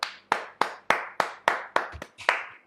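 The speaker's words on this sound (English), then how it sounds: "Can you please clap for me and my story?" Audience clapping after a told story: about nine distinct, fairly evenly spaced claps, crisp and close, with no talking.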